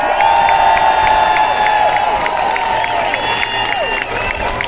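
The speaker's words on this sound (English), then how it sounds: "let's give them a massive round of applause!" A crowd at an outdoor anti-vaccine and anti-mask demonstration applauds and cheers loudly and steadily, with whoops and high shouted voices rising above the continuous clapping.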